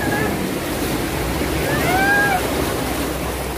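Sea waves wash onto a Philippine beach on a summer day, a loud, steady roar of surf with wind, and a few thin whistling chirps passing over it midway.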